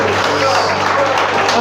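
A church congregation applauds loudly, a dense continuous wash of clapping filling the whole moment.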